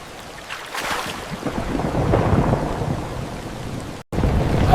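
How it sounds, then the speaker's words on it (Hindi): Storm effect for a Tom and Jerry cartoon scene: steady rain hiss with a deep thunder rumble swelling across the middle, a sudden brief cut of silence near the end, then the downpour resumes. "अंधेरा, बारिश और ठंडी हवा।"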